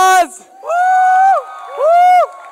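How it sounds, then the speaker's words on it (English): A few voices at a school charity night performance let out loud, rising whoops and cheers in three short bursts with brief gaps between them. "Please give us a round of applause!"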